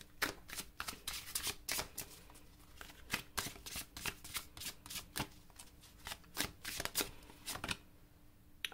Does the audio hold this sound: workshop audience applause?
no